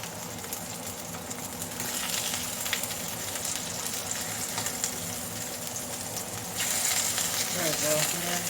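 Chicken frying in a pan for chicken marsala, a steady, close hiss of sizzling oil that swells slightly louder near the end, with faint clatter of stirring underneath.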